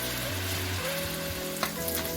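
Chicken pieces fry in a pan for a coconut-milk chicken curry, giving a steady, close crackling sizzle with a faint clink of a utensil partway through and no talk.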